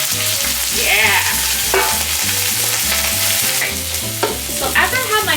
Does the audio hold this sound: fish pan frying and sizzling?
yes